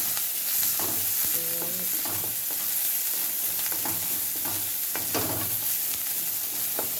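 Eggplant and fennel seeds fry in hot oil and are stirred in a pan, with a steady close sizzle and a few scraping stirs throughout.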